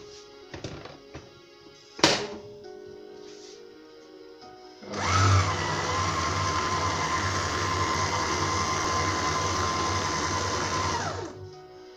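Electric mixer beating bugnes dough in a bowl: after a few light knocks and a sharp clatter, a steady loud motor whir starts and runs evenly for about seven seconds before cutting off.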